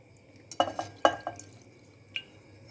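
A traditional herbal cough remedy liquid is poured in a few quiet, separate drips and splashes, with a faint clink near the end against a quiet background.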